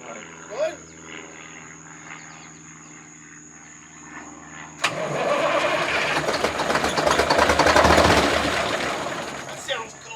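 1973 Mack R700 V8 truck engine that has sat for 20 years, cranking and catching into a loud, rough running roar after a quiet stretch of faint background noise, with brief voices before it starts.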